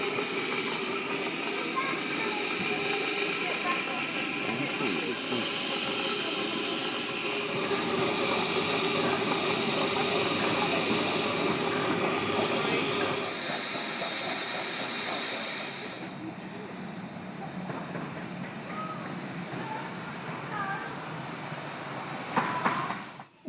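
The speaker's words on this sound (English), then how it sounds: "On the way back to New Romney, the train stalled here for a good few minutes" A steam train on a heritage railway near New Romney sits stalled, with a continuous loud hiss of steam and a low rumble that drops to a quieter murmur about two-thirds of the way through.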